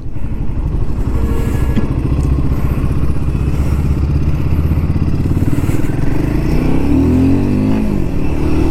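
A Royal Enfield Himalayan 450 motorcycle under way, its engine droning steadily and loudly throughout with a rising rev toward the end, no talking over it.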